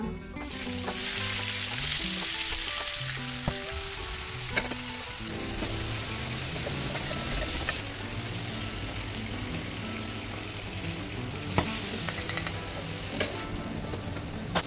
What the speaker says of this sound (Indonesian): sambil kita ngegoreng ini, kita goreng juga lencaknya